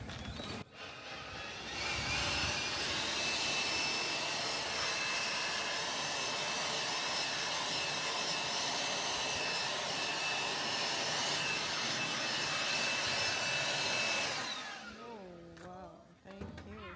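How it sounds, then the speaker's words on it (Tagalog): A loud blower whirs steadily for most of the clip, a constant rushing motor hum that cuts off near the end, with faint voices underneath. "Gamitan ni dyan ng blower."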